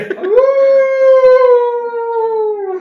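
A human voice imitates a kenku howling during a tabletop role-playing session, one long sustained rising-then-level howl lasting nearly three seconds, loud and close with no other sound.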